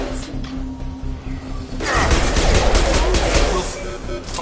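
Gunfire in the Mass Effect video game, a dense burst of rapid loud shots erupting after a quieter stretch of game ambience and continuing through the rest of the moment.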